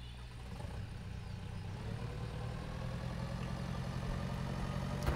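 Tractor engine in Pure Farming 2018, a low steady rumbling idle that grows slightly louder over a few seconds, with no voices.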